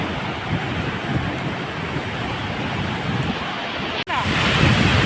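Ocean surf breaks on the shore in a steady, loud wash with wind buffeting the microphone, and a brief dropout occurs near the end.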